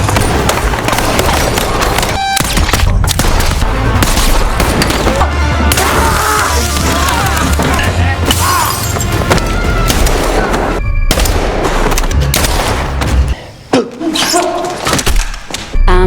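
Gunfire crackles through a loud, dense action-film scene of a hostage standoff, with sharp shots and thuds layered over music and effects, and voices mixed in throughout.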